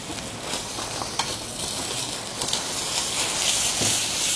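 Food fries in a hot pan and keeps cooking on residual heat, giving a continuous bright sizzle with scattered pops and scraping stirs that swells slightly toward the end, up close with no talking.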